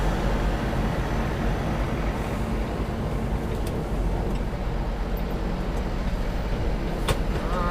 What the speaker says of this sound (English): Trying to keep from jackknifing my trailer too much.